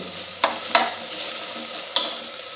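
Vegetables sauté in hot oil in a pan for bajra khichdi, giving a steady close sizzle broken by three or four sharp scraping stirs of a spoon against the pan, with no talking.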